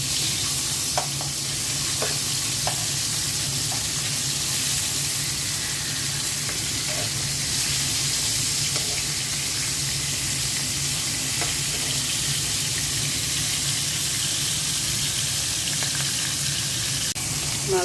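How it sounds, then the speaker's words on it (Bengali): Rohu fish pieces frying in hot oil in a pan give a continuous, even sizzle lasting nearly eighteen seconds, close and steady, with occasional faint clicks and taps of a utensil. "এখন মাছগুলো ভেজে নেব।"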